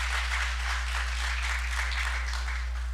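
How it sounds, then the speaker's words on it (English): An audience at a benefits program launch event applauds steadily, a dense even wash of clapping over a low constant hum from the room. "If you all can give yourselves a round of applause for being here."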